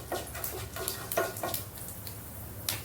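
Mustard and fenugreek seeds spluttering in hot oil for a fish curry, a run of small crackling pops scattered over a steady low background hiss.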